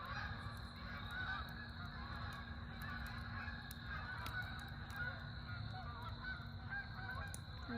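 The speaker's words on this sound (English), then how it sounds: "The geese are flying south for the winter." Distant honking from a flock of geese migrating south over a fall campground at Trap Pond State Park, soft repeated calls blending into constant outdoor background hiss with no talking.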